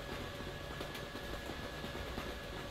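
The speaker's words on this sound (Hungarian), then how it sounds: "Ott megy a motorvonat." An electric multiple unit train passing on the Hungary map of the Euro Truck Simulator 2 video game, heard as a steady, dense rumble and rolling hiss that holds at an even level throughout.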